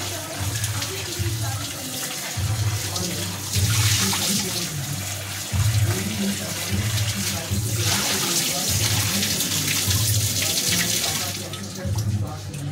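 Eggplants are washed under a running kitchen tap, a steady loud gush of water into a sink for the whole stretch, with shifting splashes as the vegetables are turned in the stream.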